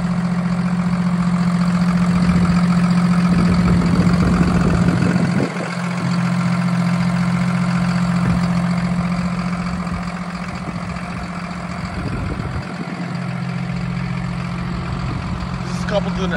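The 6.7-liter Hino J08E diesel engine of a 2016 Hino 268A box truck idles with a steady low hum, while a person talks over it throughout.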